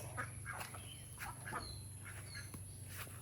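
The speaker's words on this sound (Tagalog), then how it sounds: "Miagi ang mga itik." Ducks quacking as they pass by outdoors, several short calls at a moderate distance over a steady low hum and constant high whine, with no talking.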